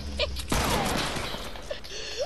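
Sniper gunfire in Fortnite, one sharp crack followed by a rolling echo, with other faint game noises and brief vocal sounds around it.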